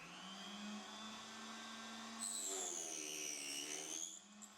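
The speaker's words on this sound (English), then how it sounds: "and start sawing." A Proxxon KS 230 table circular saw runs with a steady, loud motor whine that rises in pitch and intensity as the blade cuts, then eases at the end.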